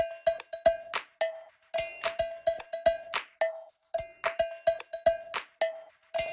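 A percussion top loop taken from the Sweet Tooth sample pack, with bright cowbell-like hits and crisp clicks in a steady repeating rhythm, loud and alone.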